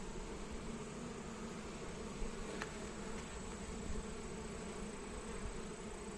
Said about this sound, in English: Very sparse with bees down here.